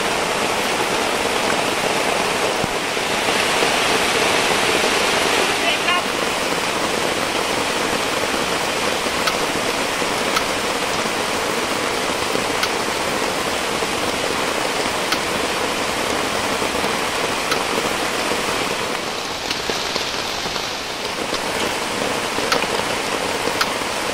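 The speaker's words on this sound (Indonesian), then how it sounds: "Beginilah kondisi kita pun hujan-hujan ni." Heavy rain pours down steadily on a campsite during strong wind, a dense, unbroken hiss that stays loud and even from start to finish with no voices.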